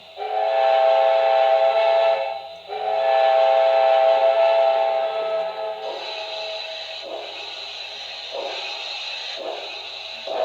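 The whistle of an HO-scale Broadway Limited ATSF 4-8-4 Northern model steam locomotive blows in long, steady blasts, broken by a brief gap, then softer repeated tones over a faint rolling rumble of the train.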